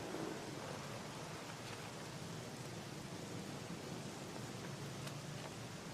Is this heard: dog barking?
no